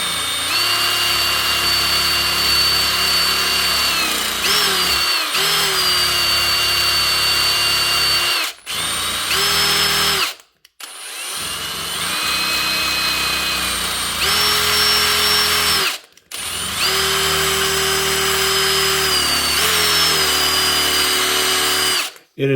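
A power sander grinds steadily against a knife blade while polishing it, running loud and continuous with a few brief pauses and pitch shifts as the pressure changes.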